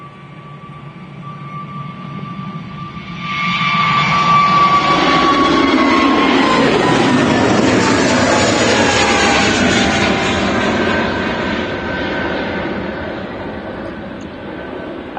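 An EasyJet Airbus A320neo departs Manchester Airport, its engine roar swelling loudly after a few seconds into a broad sustained rush with a falling whine, then easing slightly as it climbs away.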